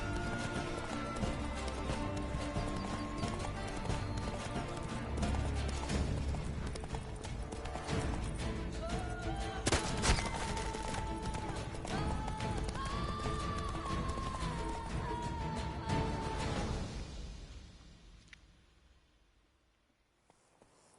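Rapid horse hooves gallop steadily through a race in the video game The Witcher 3, loud and continuous over game ambience before fading out near the end.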